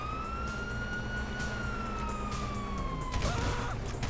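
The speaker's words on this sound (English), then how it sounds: "you hear that? Sirens!" Police sirens wailing in Grand Theft Auto V during the North Yankton bank robbery, a rising and falling wail over dense rumbling game noise and gunfire-like bursts near the end.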